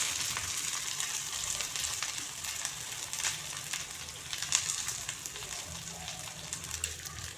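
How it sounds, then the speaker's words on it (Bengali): Chopped onions frying in hot oil after green chillies, a continuous close crackling sizzle with fine popping that holds steady throughout. "পেঁয়াজ কুচিগুলো দিয়ে দিচ্ছি"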